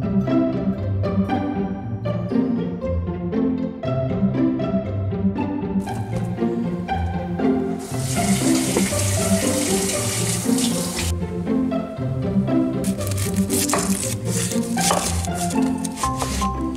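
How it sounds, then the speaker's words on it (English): Water runs from a tap while a watering can is cleaned, coming in several strong hissing bursts over steady background music. "Now we're cleaning the watering can."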